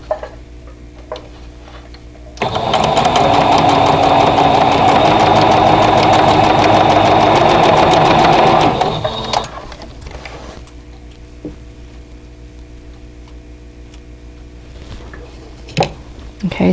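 Sewing machine stitching a seam on a flower pot quilt block, a continuous rapid mechanical whir running for about six seconds, then stopping, leaving quiet room sound with a few light clicks.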